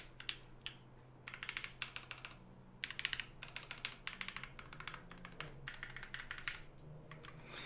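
A mechanical WKL (Win keyless) keyboard fitted with GMK Olivia keycaps being typed on, quick clacky keystrokes in bursts and runs with short pauses, close and clear, no talking.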